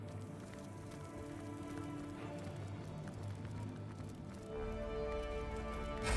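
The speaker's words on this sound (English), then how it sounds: "it's fucking raining." Rain falls in the video game Divinity: Original Sin, a faint, steady patter and hiss of drops under soft game ambience and tones, continuing without pause.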